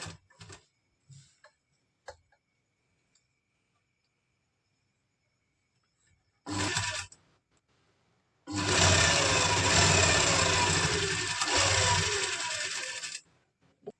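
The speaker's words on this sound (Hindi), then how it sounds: "पॉकेट को ध्यान में रखते हुए हमें ये वाली सिलाई लगानी है।" A sewing machine stitches the side seam of a palazzo alongside the pocket, after a few scattered clicks and handling sounds. There is a short whirring burst, then a longer steady run of stitching lasting about five seconds, close and loud, before it stops.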